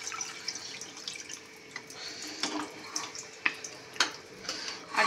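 Hot water is poured into a cooking pot of sautéed food in a home kitchen, a faint, close trickle with scattered drips and small splashes, no talking over it.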